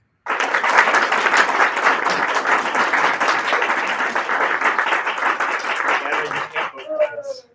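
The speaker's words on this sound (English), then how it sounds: "By round of applause, vote for the negative." An audience at a forensics speech and debate showcase applauds to vote for the negative team: loud, sustained crowd clapping with scattered cheers for about six seconds, fading as a voice begins at the end.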